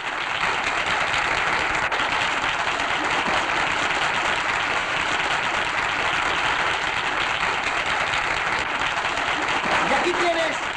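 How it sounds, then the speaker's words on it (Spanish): Sustained applause from a radio studio audience, steady and loud throughout, with no talking over it. "al locutor Gabriel Matilla, para quien pido el primer aplauso de bienvenida"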